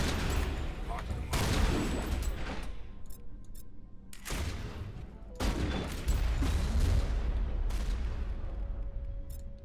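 Heavy gunfire in the Mass Effect video game during a fight against a Krogan, with loud repeated shots and booming blasts in bursts, a voice talking over the battle.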